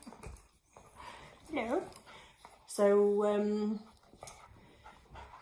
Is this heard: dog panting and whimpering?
yes